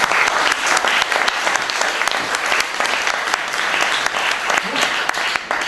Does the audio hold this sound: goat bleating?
no